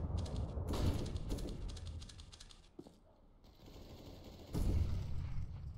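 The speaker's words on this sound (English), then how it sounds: "Throwing flashbang." A flashbang grenade goes off in a professional Counter-Strike match, sounding as sharp, loud bursts amid clattering game gunfire and mechanical noise; a second heavy burst hits near the end over steady background noise.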